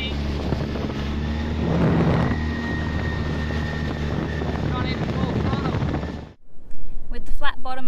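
A flat-bottomed dinghy's outboard motor roaring at high revs as it accelerates with four aboard, droning loudly over wind buffeting, then cutting off abruptly near the end as voices emerge.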